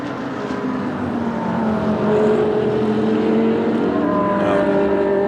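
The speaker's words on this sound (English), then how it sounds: "as the cars now accelerate their way up through Le Col" GT race cars accelerate uphill through Le Col at the Spa circuit during a 24-hour endurance race, engines droning loudly with rising pitch as several cars pass at mid distance.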